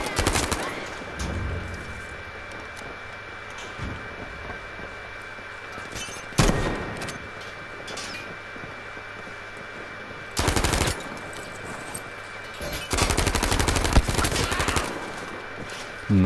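Bursts of automatic gunfire from hip-fire shooting in Battlefield V, several short rapid volleys separated by quieter stretches of battlefield ambience, fairly close and loud.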